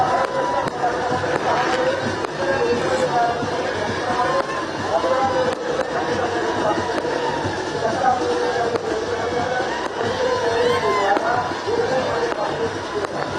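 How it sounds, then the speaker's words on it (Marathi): BJP party workers celebrating a local body election win outside their office near the vote-counting strong room, a dense crowd roaring and chattering continuously, steady and fairly loud, with sharp bangs and shouts scattered through the din. "विजयी उमेदवारांची अशा प्रकारे जल्लोष या ठिकाणी केला जातो"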